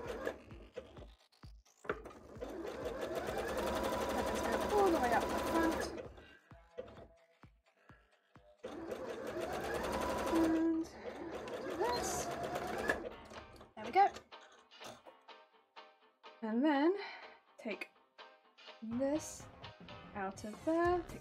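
A sewing machine zigzag-stitches bra fabric in several bursts of rapid mechanical whirring lasting a few seconds each, separated by pauses, while a voice talks at moderate level.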